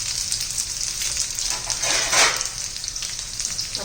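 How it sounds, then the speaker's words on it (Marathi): Potato pieces fry in oil for a quick spiced potato dish, a soft continuous sizzle that briefly swells louder near the middle, with no talking. "तेलामध्ये ना बटाटा पटकन शिजतो"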